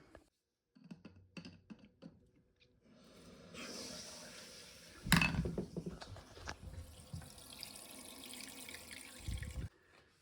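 Water runs and splashes into a toilet cistern as it refills, loud and steady, with small mechanical clicks and knocks from the fill valve being adjusted and no one talking.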